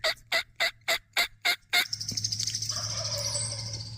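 Several wild turkeys gobble loudly and close, a run of about seven rapid, regular bursts, then a dense chorus of overlapping gobbles and clucks that keeps building in answer to a hunter's call.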